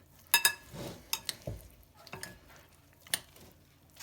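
Irregular scraping and clinking of a spoon stirring a thick kutia mixture with honey in a bowl, a series of short close knocks without talk.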